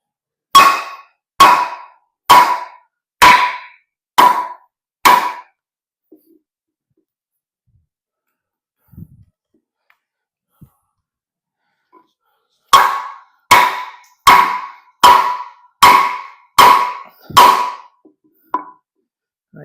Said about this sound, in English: one of the best ways that I know how to see if the edge rolls, chips, breaks, is to